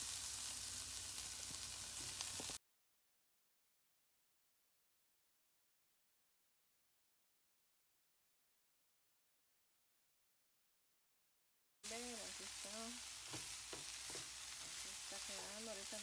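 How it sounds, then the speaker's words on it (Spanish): Chicken sizzling and frying in a pan for Guatemalan chow mein, a steady close hiss with occasional stirring, cut off by a long silent gap before the sizzle returns. "Ahorita le voy a agregar el pollo para que se sofría un poquito."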